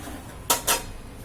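Two quick scraping knocks of a utensil against a pan while stirring burji with salt and pepper, close and sharp over a faint steady hiss.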